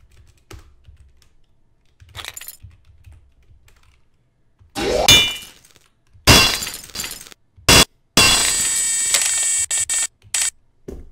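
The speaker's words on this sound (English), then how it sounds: "we'll add some wrench sound effects" Sharp metallic wrench clanks and clattering hits added as sound effects in Source Filmmaker come in separate loud bursts between near-silent gaps, ending in a longer sustained rattling stretch.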